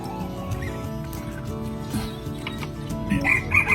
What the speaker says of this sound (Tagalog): Ito naman yung ating tandang